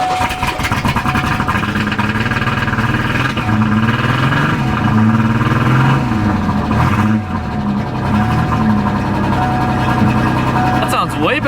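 A 1988 Ford Ranger engine runs and revs unevenly, a loud close mechanical drone that sags and struggles when the throttle is eased, with someone talking over it.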